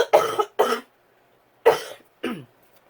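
Close, dry coughing comes in two pairs of harsh bursts separated by a short silence.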